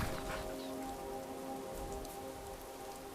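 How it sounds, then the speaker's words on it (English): Steady rain in the video game Skyrim pours on surfaces as a dense, continuous hiss, with faint low tones running underneath for the whole stretch and no voices. "This rain will stop eventually."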